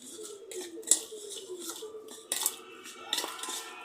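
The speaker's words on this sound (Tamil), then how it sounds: "ஆயிலில் மிக்ஸ் பண்ணுறேன்." A spoon scrapes and clinks against a bowl while masala is mixed with oil for grilled fish, with soft repeated strokes and a few sharper taps, close and fairly quiet.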